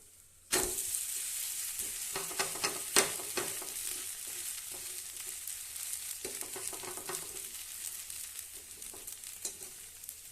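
Mudakathan greens dosa made with moong dal and rice frying in ghee on a pan after being flipped, a loud steady sizzle that jumps in suddenly and crackles on with scattered pops, close by and without talk.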